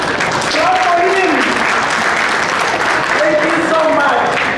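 Audience applause fills a hall at a business conclave, dense continuous clapping from a large crowd, with a voice speaking over it at moments.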